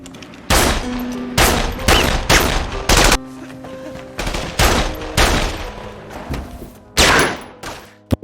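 Gunfire crackles in a fierce shootout between police and FLN fighters in a war-of-independence story, with loud, close volleys and bursts of shots arriving in irregular clusters, some echoing thuds between.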